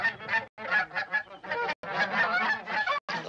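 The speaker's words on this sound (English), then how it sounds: "Well, they're geese. Can't you hear them honking?" A flock of geese honks in a dense, overlapping chorus of nasal calls, loud and close, with only brief gaps between bursts.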